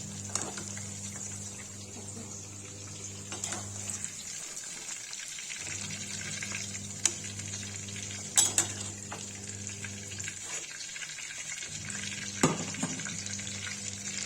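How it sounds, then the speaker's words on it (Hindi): Pieces of bottle gourd fry in hot oil with a steady, close sizzle throughout, interrupted by a few clinks of a utensil against the pan and brief stirring noises. "गाइस देखिए लौकी फ्राई होगी"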